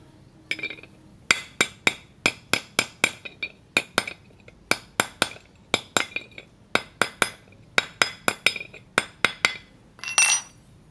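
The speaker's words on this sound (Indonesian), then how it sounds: "Bagian yang ini kita ketok aja pakai palu." A metal gas stove part is struck with a hammer to straighten it, producing sharp clinking metallic blows in irregular quick bursts, roughly two dozen strikes close up, followed by a brief scraping rustle at the end.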